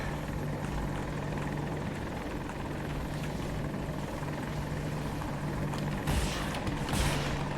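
Helicopter flying in the video game Battlefield 2042, a steady rotor drone and engine whine holding loud and constant throughout, with a brief surge of brighter noise near the end.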